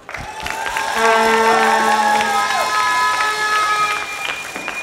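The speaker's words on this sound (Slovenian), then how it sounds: "Dajmo en aplavz." Schoolchildren in a large audience at a national eco-quiz competition break into loud applause and cheering, a dense roar with shouts and whistling tones rising over the clapping, swelling after a second and then tapering slightly.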